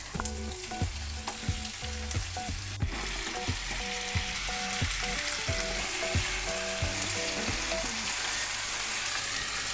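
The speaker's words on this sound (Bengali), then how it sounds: "এটাও হালকা নাড়াচাড়া করে দিয়ে দেবো চিকেনটা।" Chicken frying in a pan with a generous amount of crushed ginger and garlic, a steady close sizzle running throughout with repeated stirring scrapes and knocks against the pan, no voices.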